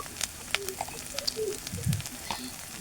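Turmeric and chili powder dropped into hot oil for a village-style bhetki fish curry with garden yam, giving a steady close sizzle and fry crackle with a few light stirring clinks, alone without talk.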